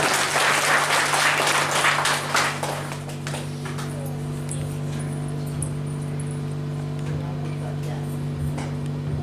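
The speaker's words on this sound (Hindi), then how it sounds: "एक बार जोरदार तालियां होनी चाहिए राष्ट्रीय अध्यक्ष के लिए" Enthusiastic audience applause at a religious satsang gathering, loud dense clapping at first that thins and fades after a few seconds into a lingering hum of the hall sound system.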